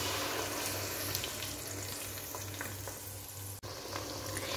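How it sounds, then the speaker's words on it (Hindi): Raw paste of four ground medium onions frying in hot cooking oil for a beef kofta curry, giving a steady, dense, close sizzle throughout with faint stirring; no one speaks. "अब इसके अंदर मैं कच्ची प्याज का पेस्ट डाल दूँगी।"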